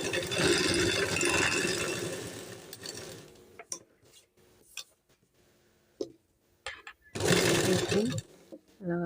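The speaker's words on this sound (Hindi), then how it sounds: "रखने के बाद हम स्टिचिंग करेंगे।" A sewing machine stitching a lining strip onto a kurti, a loud continuous whirr of rapid stitching that stops, gives way to a few soft clicks and handling knocks, then starts up again briefly.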